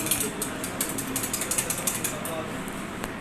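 A milk collection machine runs steadily with a dense, rapid mechanical clatter like a turning ratchet or gear train, close and continuous with no talk over it.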